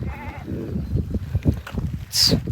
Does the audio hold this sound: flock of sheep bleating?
yes